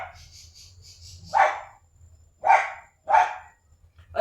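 Dogs barking for their dinner, three or four separate sharp barks at moderate distance with quiet gaps between them.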